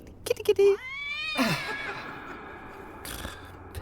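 A cat meows in a radio drama, a drawn-out, wavering call rising and falling in pitch, with a second meow following shortly after, set among voices and background room noise.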